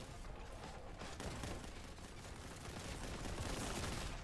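The player's bolt weapon fires in Warhammer 40,000: Boltgun, a dense, continuous barrage of rapid shots that roars steadily over game noise without a break.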